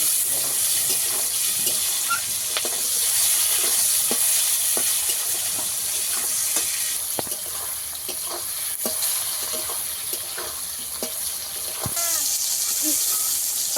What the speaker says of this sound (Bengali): টমেটো কাঁচা লঙ্কা ভালো করে একটু ভেজে নেব